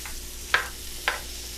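Onions for mujadara cook in a pan with a faint, steady sizzle, broken by two soft stirring scrapes about half a second apart.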